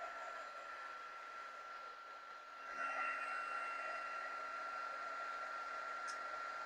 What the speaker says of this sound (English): Just going to hold this and heat emboss it. Heat it up.